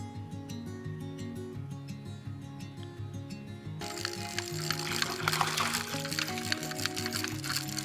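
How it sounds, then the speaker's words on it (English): Water is poured over something so it can soak, a steady rushing pour that starts about halfway through and continues to the end beneath sustained background music. "I'm just gonna pour water over it and let it soak for a couple hours."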